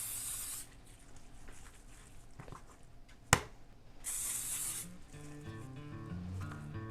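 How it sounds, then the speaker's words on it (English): Short hissing bursts of canola oil spray onto raw ribeye steaks, two distinct sprays separated by a sharp click, close and fairly soft against a quiet background. "let's hit these guys with some canola oil"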